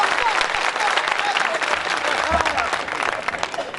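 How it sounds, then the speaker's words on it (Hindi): Enthusiastic audience applause at an Urdu poetry recital (mushaira) in India, a thick roar of many clapping hands with crowd noise and scattered voices mixed in, loud and sustained. "मैं चाहूंगा कि अगली सब से लेकर पिछली सब तक तालियां बजनी चाहिए"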